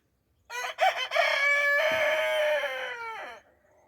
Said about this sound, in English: There's another rooster.